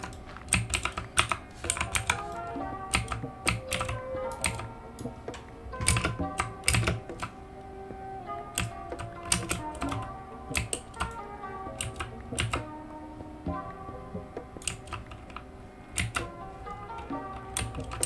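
A computer keyboard clatters steadily while someone plays Minecraft, with many close, sharp keystrokes in fast irregular bursts and brief pauses throughout.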